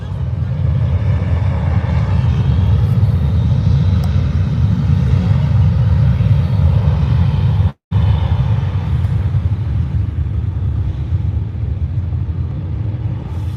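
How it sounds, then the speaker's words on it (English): A Ryanair airliner on its takeoff roll at Birmingham airport gives a loud, heavy low rumble that holds steady, broken by one momentary dropout midway. "This Ryanair's taking its time for some reason. And it's on a roll now."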